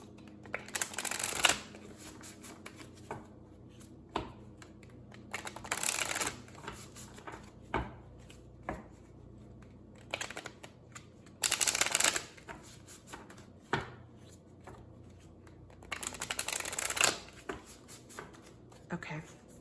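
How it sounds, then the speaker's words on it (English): Tarot cards being shuffled in several bursts of riffling and flicking, with quieter pauses and soft handling noises between them and a voice speaking at times over the card sounds. "I can't shuffle it this way. We're going to do it the other way."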